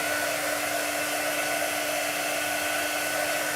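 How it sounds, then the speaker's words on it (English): A quick dry blower tool pushing air over freshly applied chalk paint, a continuous loud whirring hum with a steady motor whine, unbroken throughout and with no speech over it. "We're just gonna give it a little blast of some light air here. Help it start drying."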